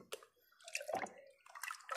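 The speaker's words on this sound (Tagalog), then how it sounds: "Tapos tatanggalin natin yung tubig" Water is scooped and splashed away from around a biogas storage drum, giving faint, close sloshing and dripping sounds in a few short bursts.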